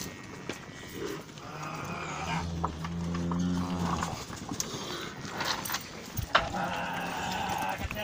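Nelore cattle are worked on horseback during a roundup, with hoof clatter, shuffling movement and an animal's drawn-out bellow midway, while people shout and call over the herd.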